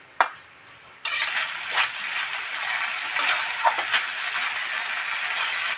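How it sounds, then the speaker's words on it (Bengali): Drumsticks and potatoes are sautéed in spice paste in a pan, starting with a sharp knock and a short quiet, then a continuous frying hiss with irregular stirring scrapes. "তখন মশলাটার সাথে সাজনা আর আলুগুলো ভালো মতন কষিয়ে নেব।"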